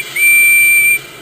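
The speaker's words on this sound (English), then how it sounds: "He whistled hello to Harry and Bert." A single steady steam engine whistle from a small tank locomotive, one clear sustained high tone lasting under a second, loud and close with no voices.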